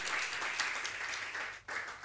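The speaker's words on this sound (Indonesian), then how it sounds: "Yang setuju tepuk tangan sama-sama buat Tuhan Yesus." A church congregation claps together during a worship service, a fairly even burst of applause that dips briefly near the end and then resumes.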